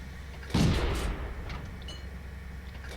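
A T-46 tier 3 light tank fires its main gun in a tank video game: one loud, sharp cannon blast with a booming low thud that decays over about half a second, then a quiet rumbling background, with no talking.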